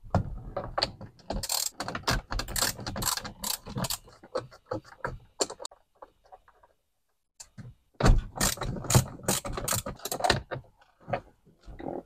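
A ratchet backs out two 10mm bolts on the back of a Dodge Charger airbag, with bursts of rapid clicking ratchet strokes, a brief pause, then more close, crisp clicking.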